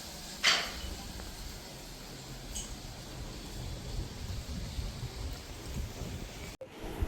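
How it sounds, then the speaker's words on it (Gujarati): Steady rain falls outside as a soft, continuous hiss at moderate distance, with a sharp knock early on and a brief thump near the end, and no talk over it. "વરસાદ ચાલુ ચાલુ છે"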